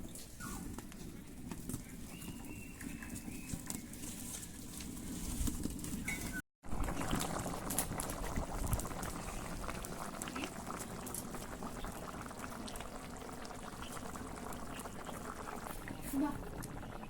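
Water splashes into a village-style chicken and potato curry, which then bubbles at a steady, loud boil for the whole stretch, with a low voice in the background.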